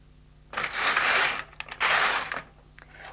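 An LK150 knitting machine carriage is pushed across the needle bed in two quick passes, each a loud rattling, clattering mechanical sweep about a second long, separated by a brief pause with light clicks.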